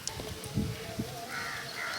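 A crow caws twice in quick succession, short harsh calls over a steady background hum and a faint higher whine, beside a village pond while fish fry.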